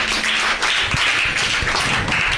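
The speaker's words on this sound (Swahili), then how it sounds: "Jipigeni makofi." Children clap for themselves at a gathering for orphans in Kisarawe, Tanzania, a dense, steady patter of many small hands filling the space at close range for a couple of seconds.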